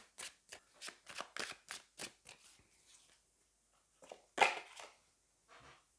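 Tarot cards being shuffled and drawn during a French card reading, a quick run of crisp riffling flicks followed by a sharper card snap, close and fairly quiet with no talk over it.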